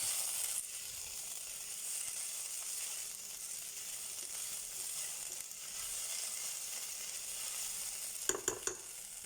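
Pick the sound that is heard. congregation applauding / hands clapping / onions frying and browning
onions frying and browning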